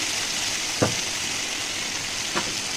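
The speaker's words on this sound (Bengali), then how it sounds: "মশলাটা এবার কষে নেওয়ার পালা" A turmeric and Kashmiri chili masala fries with a splash of water in a pan. It gives a steady, close hiss, broken twice by brief stirring knocks.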